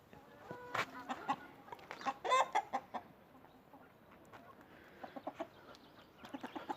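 Chickens clucking nearby in soft, scattered bursts, with a few sharper squawks, against a quiet outdoor background.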